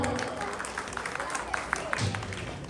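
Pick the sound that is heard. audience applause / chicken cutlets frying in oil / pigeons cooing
audience applause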